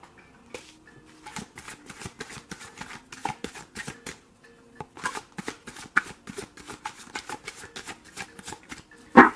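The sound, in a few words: shuffling tarot cards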